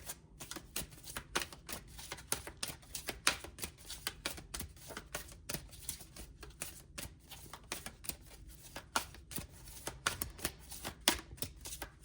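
Oracle cards shuffled by hand in a steady run of soft, papery riffles and taps, close and continuous, with no talking.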